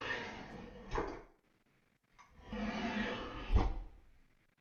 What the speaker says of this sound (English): First, you'll hear a drawer closing.